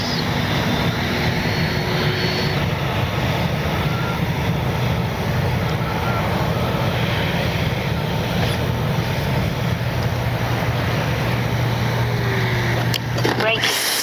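Freewing F9F Cougar RC jet on its landing approach, a steady, continuous electric ducted-fan whine and rushing air that holds throughout at moderate distance, with outdoor background noise and no talk.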